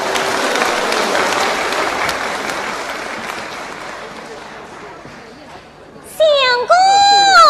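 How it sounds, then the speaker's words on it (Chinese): An audience at a Chinese opera performance applauds loudly as the performers come on stage. The clapping slowly thins and fades, and then a high, wavering sung voice enters near the end. "我们掌声有请。"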